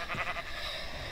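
A sheep bleats in the video game Minecraft, a short wavering nasal call with a couple of pulses, fairly close and alone.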